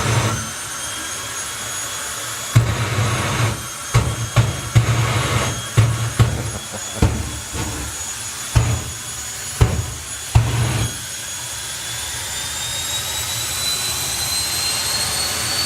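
A nostalgia drag racing car at an outdoor meet sits at a loud steady idle, then is blipped through a run of sharp throttle revs in quick bursts before settling back to a constant roar.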